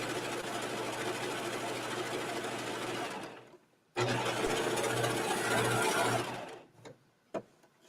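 A serger stitches a rolled hem on slippery fabric, running in a fast steady whir, pausing briefly, then running again before stopping, with a couple of small clicks at the end.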